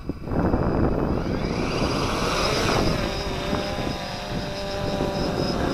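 A WLToys V303 GPS quadcopter drone flies outdoors in a strong breeze, its rotors giving a loud, continuous whirring buzz with shifting tonal whine as it climbs and maneuvers, close by, with wind noise on the microphone and no speech.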